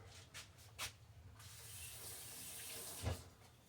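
Kitchen tap turned on to draw room-temperature water, a few soft clunks and then a steady hissing rush of running water, close and fairly quiet, ending with a bump.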